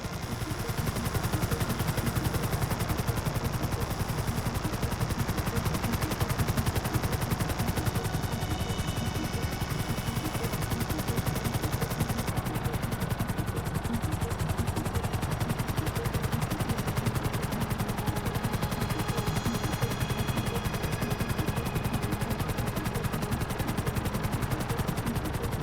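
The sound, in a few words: gunfire shooting in video game GTA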